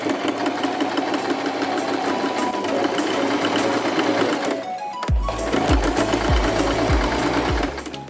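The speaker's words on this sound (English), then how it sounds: "Sew the elastic using a loose straight stitch." A sewing machine runs a loose straight stitch, attaching elastic to a polka dot midi skirt, with a steady fast whir and then a rhythmic chunking pulse as the stitching continues, loud and close with no talking.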